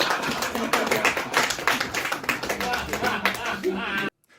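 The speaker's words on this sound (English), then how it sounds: "That's a pretty full applause break." Audience applause break at a stand-up comedy open mic, with a burst of clapping and laughter mixed with talk that runs for a few seconds and then cuts off abruptly.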